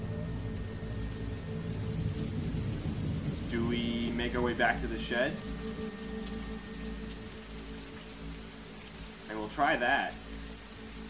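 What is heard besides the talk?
rain in The Walking Dead Season 2 video game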